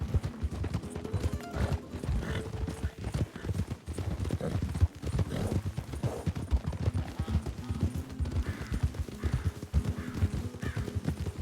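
Rhythmic clip-clop of horse hooves at a steady trot, clear and close, with game sounds layered underneath.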